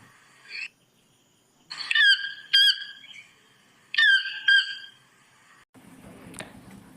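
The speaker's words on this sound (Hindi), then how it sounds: "ಟೌಕನ್ ಟೌಕನ್ ಮೀನ್ಸ್ ದೊಡ್ಡ ಕೊಕ್ಕುಳ್ಳ ಹಕ್ಕಿ ಟೌಕನ್ ಕೂಗುವ ಧ್ವನಿ" Toucan calling in short harsh squawking bursts, two paired croaky calls repeated with silent gaps between them, clear and fairly close, with no voices.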